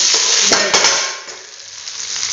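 Capsicum pieces, tomato and green chilli sauté in a pan, giving a loud steady sizzle with scraping stir strokes near the start, easing slightly toward the end.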